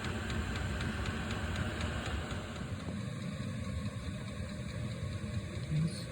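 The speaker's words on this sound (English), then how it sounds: "First run, diesel heater, back bedroom." Diesel heater on its first run in the back bedroom of an RV, a steady, muffled mechanical hum and drone with faint rhythmic ticking, constant and close, no talking.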